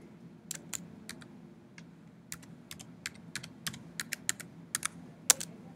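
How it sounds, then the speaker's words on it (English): Keys on a computer keyboard clatter in quick, uneven bursts of sharp clicks over a steady low hum while a login ID is entered, close and fairly quiet, with no voices. "Type in your GWID with a capital G."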